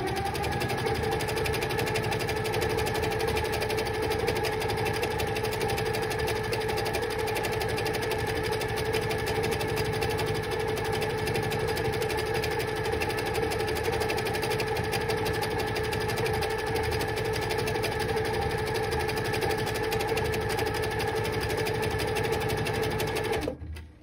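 A sewing machine quilting fabric runs steadily at constant speed, a close, continuous mechanical whir with a fast stitching rattle and no pauses.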